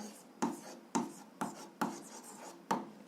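A pen writing an algebra answer on paper, with about six crisp, evenly spaced scratching strokes close up and quiet, no talking.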